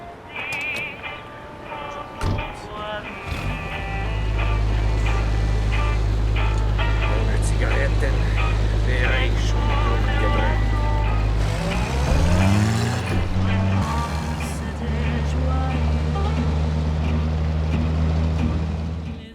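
Music heard from inside a car in The Saboteur video game, mixed with a loud, steady engine drone that shifts pitch as the car accelerates, while someone talks over it.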